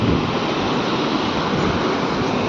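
Steady broadband rush of water flowing over worn rock channels toward a waterfall, a continuous close roar with no pauses and no voices.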